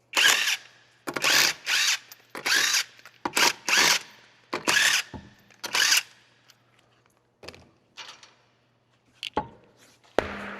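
Impact gun or power tool spinning off the rear wheel nuts on a 2008-2011 Dodge Grand Caravan, with several loud, close bursts in quick succession, then shorter, sparser bursts with quiet gaps between.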